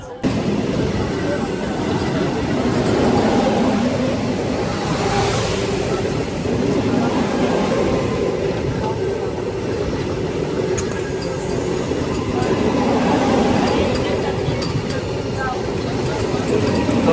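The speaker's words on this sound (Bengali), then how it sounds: "এখনই পাস করতে যাচ্ছে দিল্লি থেকে বন্দে ভারত এক্সপ্রেস" A Vande Bharat Express train passes at night with a sustained rolling rumble and rail clatter, steady and fairly close for the whole stretch.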